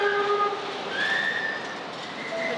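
Mexico City metro train arriving at a station, a steady rolling rumble with high squealing brake and wheel tones sliding in pitch, moderately loud and close, no voices.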